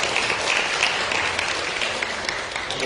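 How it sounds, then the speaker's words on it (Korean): A church congregation claps in blessing for a departing brother, a steady, even round of applause at moderate volume that carries on without pause. "우리 정형제 우리 축복하며 한번 박수를 드렸으면 좋겠고요."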